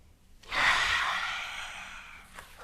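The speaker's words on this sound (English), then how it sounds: "Big breath in." A single long, breathy exhalation during a children's yoga exercise, starting with a sudden rush of air and fading gradually over about two seconds, close and alone.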